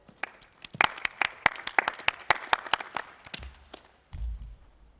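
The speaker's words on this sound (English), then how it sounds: "Let's give her a round of applause." Scattered applause at a school assembly, sharp individual claps from a modest group forming an uneven patter that thins out and stops, followed by a low thump.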